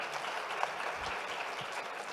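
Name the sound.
audience applause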